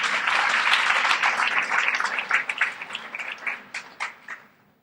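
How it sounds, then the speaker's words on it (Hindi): A crowd claps steadily at a poetry recital, a dense crackle of hands that thins into scattered claps and fades out at the end. "एक बार तालियां इनकी।"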